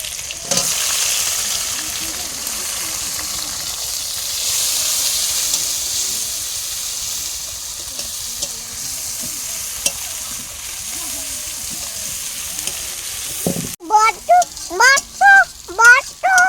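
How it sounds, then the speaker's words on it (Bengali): Cumin seeds, bay leaf and onion sizzling loudly in hot oil at the start of a goat mutton curry: a close, continuous hiss for most of the stretch, then voices talking over it near the end. "তেলে জিরে তেজপাতা পেঁয়াজ দিলাম"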